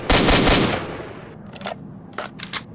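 An AKM-74U fires in the video game S.T.A.L.K.E.R. Portable, a quick loud burst of several shots followed by scattered fainter reports and echoes.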